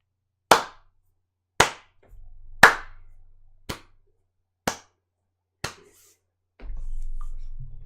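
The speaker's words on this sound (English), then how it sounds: "Let's pause and give Android Studio a slow clap." A single person gives a deliberate slow clap: six sharp, isolated hand claps spaced about a second apart, close and clear against near silence, with brief low background hum between some claps.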